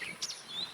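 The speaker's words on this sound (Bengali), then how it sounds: "আর পাখিদের ডাক কিছু কিচি ডাক এগুলো আমরা শুনতে পাই" Small birds chirp and tweet in a quiet early-morning outdoor setting, a few brief high calls, including two quick chirps near the middle and a thin whistle toward the end, over soft ambient hiss.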